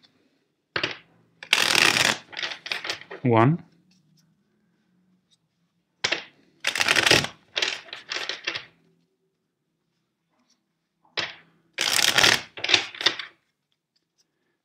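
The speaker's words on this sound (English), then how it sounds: "First, let's shuffle the deck 5 times for you." A tarot deck shuffled by hand in three separate bursts, each a quick riffle of crisp card flutter and slapping, with a brief spoken word between bursts and quiet gaps in between.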